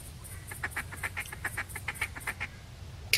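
A duck call in the hunting game The Hunter: a quick, chattering run of many short quacks in fast rhythm, fairly close, ending with a sharper blast.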